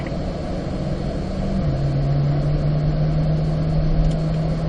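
A car accelerating steadily on a test track for a hard-braking drill, its engine a continuous loud rumble that shifts pitch partway through as it picks up speed, with no talk over it.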